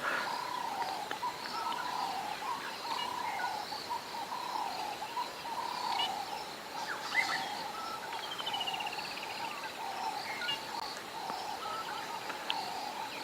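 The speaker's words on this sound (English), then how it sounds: "you can hear all the birds are starting to call now as well" Many birds call and chirp in the distance at sunrise on safari over a steady background of insects, a soft, continuous outdoor chorus.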